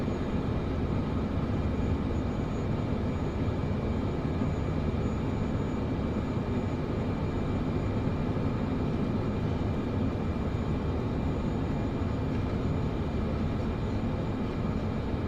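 A Cessna in a flight simulator game taxis after landing, its engine a steady, unbroken droning rumble that holds at one level throughout with no speech.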